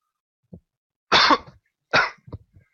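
Two harsh, loud coughs ring out close by, with a few smaller throat sounds and short pauses between them.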